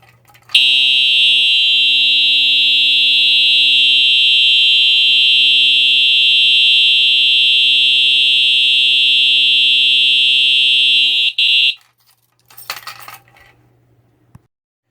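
A 4903-9252 electronic fire alarm horn strobe blares a loud, steady, unbroken electronic tone for about eleven seconds, then cuts off abruptly, followed by a few faint clicks and handling sounds.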